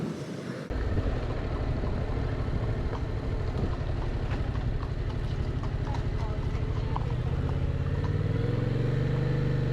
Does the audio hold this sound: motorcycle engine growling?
yes